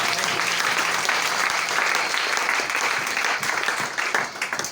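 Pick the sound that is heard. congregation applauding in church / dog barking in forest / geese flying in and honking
congregation applauding in church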